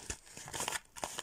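Crisp, close plastic crinkling from a small packet being handled while AliExpress stickers and sliders are unpacked, coming in several short uneven bursts with brief pauses between them.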